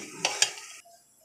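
Chicken shami kebab mixture of chicken and lentils being stirred and sautéed in a pan, with two quick scraping strokes over a soft sizzle that cuts off abruptly, leaving near silence.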